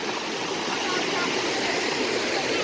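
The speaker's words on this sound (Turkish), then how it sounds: "Şelaleye gidiyoruz." A cartoon waterfall pours in a steady, loud, broadband rush of water that never lets up over the short stretch.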